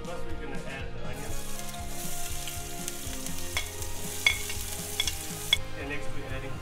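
Onion frying in a pan for Indian dal pitha, a steady sizzle with stirring and occasional scraping clinks close by, with no talk over it.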